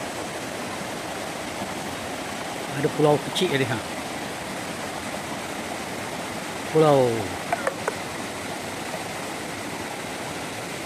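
A river stream at a jungle waterfall in Kelantan, Malaysia, rushes steadily throughout, with someone speaking briefly twice over the constant watery hiss.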